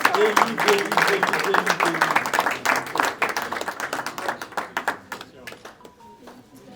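Audience at a graduation ceremony claps for a graduate, a dense burst of many hands that thins toward the end into scattered individual claps, with voices talking underneath.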